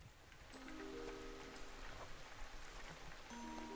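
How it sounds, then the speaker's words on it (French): Steady rain patters in the farming video game Harvest Island, a soft continuous wash of drops with faint tonal game music notes drifting over it throughout. "Oh, il pleut!"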